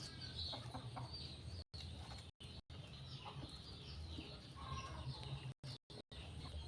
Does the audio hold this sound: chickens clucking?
yes